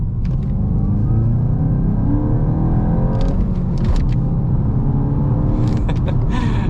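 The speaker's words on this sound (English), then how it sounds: "I'll get up to 25 and just floor it and see what happens" A 2023 VW Golf GTI with a manual gearbox, in sport mode, pulls hard at full throttle in second gear from about 25. A loud, steady engine roar fills the cabin as the revs climb, with a few brief ticks and clicks.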